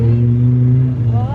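A vehicle's engine revving loudly through its exhaust close by at a picnic outing, a steady low droning growl held for a moment, with voices nearby.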